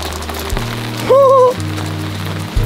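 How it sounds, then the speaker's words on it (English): Rain falling in the woods on a wet day, a steady hiss with a low droning hum underneath and a brief whistling tone partway through. "It's kind of ironic that today it's been raining on and off all day."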